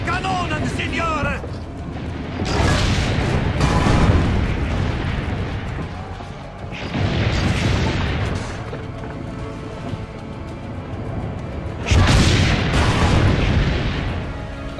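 Cannons fire in the Assassin's Creed Brotherhood video game during the attack on Monteriggioni, three heavy booming blasts with long rumbling tails, a voice speaking over the battle noise.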